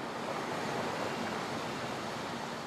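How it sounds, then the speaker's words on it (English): Steady, dense roar of water being ejected by powerful diesel pumps running round the clock to drain a construction site enclosed by walls at Marina Bay Sands, Singapore, constant and loud without pause. "engineers deploy powerful diesel pumps and run them 24 hours a day."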